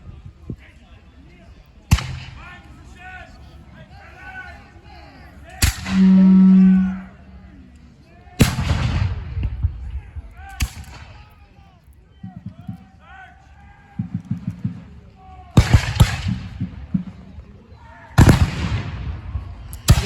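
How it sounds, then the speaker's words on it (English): Loud musket volleys crack out in separate bursts every few seconds as divisions fire in turn at a battle reenactment, each a sharp ragged blast, with voices and shouted commands in between. "the men are firing by division. One division will fire, then it reloads, then the next division will fire"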